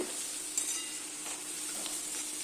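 Carrots and beans stir-fry in a pan, giving a faint, steady sizzle with a single soft clink of a utensil; quiet and unbroken, no speech.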